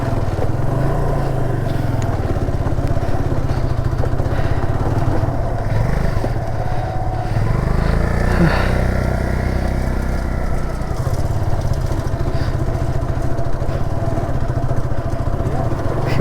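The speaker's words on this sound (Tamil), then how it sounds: "இவ்வளோ டேஞ்சர் பொசிஷன்லாம் வண்டி ஓட்டினதே இல்லைடா இது வரைக்கும்" A motorcycle engine drones continuously and close as it climbs a rough, steep off-road jungle trail in the Kalvarayan hills, its pitch rising and falling with the terrain.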